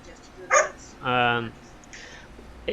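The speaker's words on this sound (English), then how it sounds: "If that dog keeps barking, Ems, something's gonna have to happen." A farm dog gives a short yip, then a longer whining bark and a fainter yelp. The calls sound fairly close over a quiet background.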